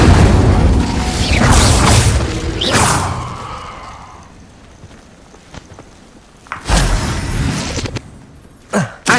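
Incendio fire spells cast in Hogwarts Legacy: heavy booming blasts and whooshing bursts at the start, a quieter rumbling stretch, then sharp popping flares of flame near the end.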